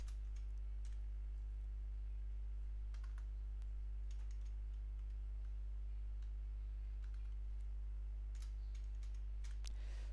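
Fingers typing on a computer keyboard, sparse light key clicks in short bursts over a steady low electrical hum, faint and close, no talk.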